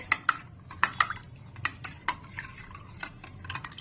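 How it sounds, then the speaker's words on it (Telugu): A spoon stirs a pani puri masala mixture in a bowl, giving a string of close, sharp clinks and scrapes in an uneven rhythm over a low background hum. "అన్ని మిక్స్ చేసుకోవాలండి"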